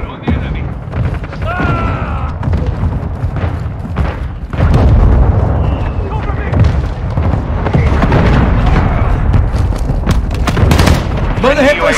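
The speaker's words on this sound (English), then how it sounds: "Our mortar strike is inbound." Heavy booms from an incoming mortar strike in a battle royale video game mix with bursts of gunfire, loud and sustained, with players talking throughout.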